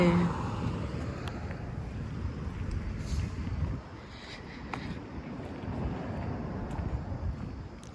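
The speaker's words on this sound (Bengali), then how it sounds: "আজকে বাহিরে অনেক বাতাস কিন্তু খুব একটা ঠান্ডা নাই" Strong wind blows outdoors at a bus stop, buffeting the microphone with a low, continuous rumble that eases briefly midway before rising again.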